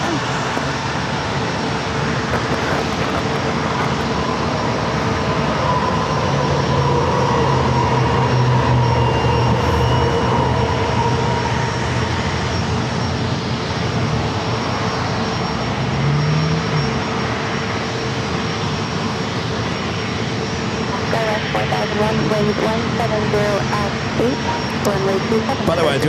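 A FedEx ATR turboprop feeder plane arrives at San Diego airport, its engine drone a steady, fairly distant hum that holds throughout without speech.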